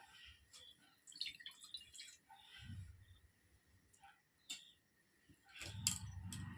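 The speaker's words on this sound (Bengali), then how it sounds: "কড়াইয়ে অল্প সামান্য জল দিয়ে দিই" A little water poured into a wok on a stove while cooking bottle gourd: faint, quiet splashes and drips come in short separate bursts, with small ticking clinks between them.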